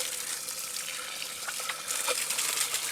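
Tap water runs steadily into a sink while vegetables such as radish and pumpkin are rinsed, a continuous close splashing gush with small irregular spatters.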